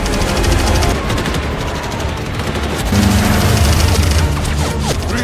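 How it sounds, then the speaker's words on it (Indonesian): Loud, dense bursts of gunfire and explosions from a film battle roar continuously, a chaotic mix with no pauses. "Tentara Meksiko dan Kuba yang berada di sana ikut membantu melepaskan tembakan untuk menjatuhkan"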